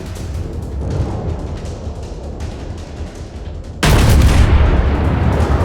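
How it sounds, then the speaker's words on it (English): Heavy gunfire from the battleship Tirpitz in a naval video game, a dense rumbling roar that jumps to a louder, sustained blast of booms partway through, with no voices. "Shots out of that Tirpitz."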